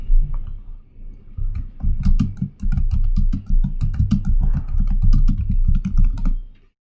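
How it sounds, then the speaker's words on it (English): Rapid clattering keystrokes on a computer keyboard as a command is typed at a prompt, a close, dense run of clicks that stops abruptly. "So let's type that at the command prompt."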